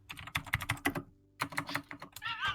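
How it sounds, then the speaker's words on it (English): Fast, forceful typing on a computer keyboard, a close flurry of clattering keystrokes that stops briefly and then resumes just as hard. "Angry typing."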